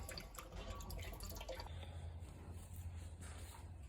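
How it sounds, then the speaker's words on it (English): Engine oil draining from the sump of a petrol Hyundai ix35 after the plug is removed, a soft continuous liquid trickle with faint dripping, steady and close, with no talk. "Sump plug off. We'll leave that to drain for the next 10 to 15 minutes."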